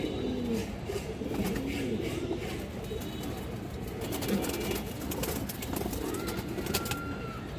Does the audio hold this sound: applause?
no